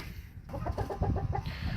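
Chickens and a big rooster cluck in a coop, a quick run of short, repeated clucks close by over low farmyard noise, with no talk.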